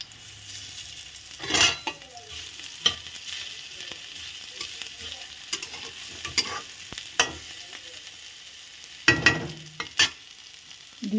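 Fried potatoes with fresh green chili and garlic sizzle steadily in a pan for spinach fry, with occasional louder scraping stirs and clinks of a utensil against the pan rising over the constant hiss.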